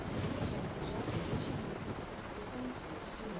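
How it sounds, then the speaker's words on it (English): A helicopter in the video game Armored Core 3 drones on as a steady, fairly faint rotor and engine wash, with no voices over it. "As soon as the helicopter shows up, you're done."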